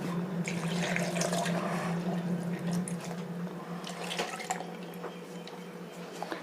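Chilled milk and ice cubes are added to papaya juice, giving a continuous close pour of liquid with light splashing and a few small clinks near the end, without any talking.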